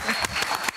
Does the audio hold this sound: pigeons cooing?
no